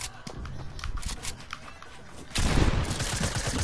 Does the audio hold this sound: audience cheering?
no